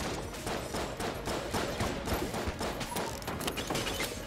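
Rapid shotgun blasts and other gunfire in the bullet-hell game Enter the Gungeon, a dense, continuous barrage of loud overlapping shots with game sound effects and no pauses.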